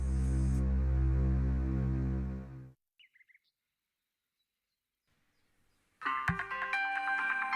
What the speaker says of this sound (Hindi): ओफो, अभी किसका फोन है?